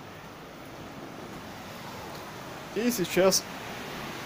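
Sea waves at a Thai beach make a steady, soft broadband wash in the background, and a voice speaks briefly over it near the end.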